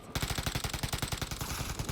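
Rapid automatic gunfire from the video game Call of Duty: Warzone rattles in a fast, even stream of loud close shots lasting a couple of seconds.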